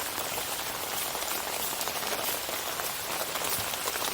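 Steady rain falls on a rainy day around a house, a dense, even hiss of drops striking surfaces close by, continuous and unbroken with no talking.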